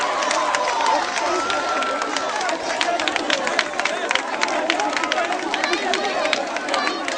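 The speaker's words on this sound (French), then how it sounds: "On l'applaudit très fort jusqu'à ce que ça cesse." A crowd welcoming Pallavi Kokane, known as Vaidehi, on her arrival in Côte d'Ivoire claps steadily in a dense, continuous patter, mixed with chatter and a few cheers.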